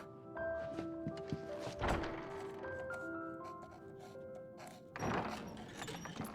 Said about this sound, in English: Or we can walk through this door.